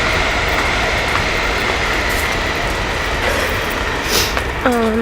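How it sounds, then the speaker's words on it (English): A commuter train passes, a steady rushing rumble of rail cars with faint clatter and a brief squeal near the end, loud and close with no one talking. "Here's the train. The train to get home."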